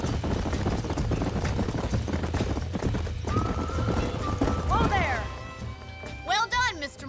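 Horses in a Western video game clop steadily along with dense hoofbeats, then whinny and neigh sharply toward the end, with voices talking over them.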